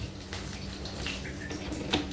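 Homemade buttermilk pours into a pan in a steady, even liquid stream for about two seconds, close and moderately soft, with a faint splash near the end and no voices.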